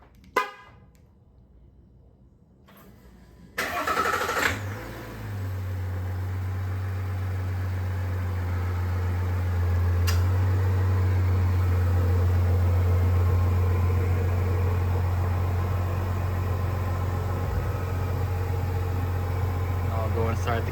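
Diesel engine of a 2021 GMC Sierra 1500 with a 3.0L Duramax and an S&B cold air intake, starting after a quiet moment and then settling into a steady, close idle rumble with intake whoosh, no talk.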